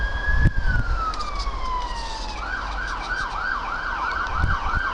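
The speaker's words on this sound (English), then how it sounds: "I'll finish off on the siren." An emergency siren sweeps downward in a long wail, then switches to a rapid repeating yelp, steady and moderately loud over a low road rumble.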